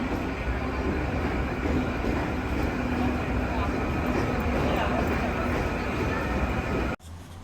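A local train at a railway station gives a loud, steady rumble and rattle for about seven seconds, then cuts off abruptly. A voice is audible over the train noise.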